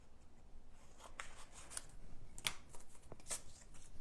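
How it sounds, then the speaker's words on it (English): Scissors cut iridescent foil vellum paper in a few quiet, crisp snips and rustles, close and faint, with no talking. "We'll just cut this off right about here."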